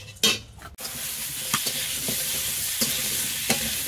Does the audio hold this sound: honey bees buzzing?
no